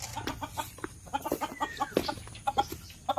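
Backyard chickens of native and kusyamo breeds cluck close by, a busy run of short, choppy clucks with one drawn-out sliding call, and no voices.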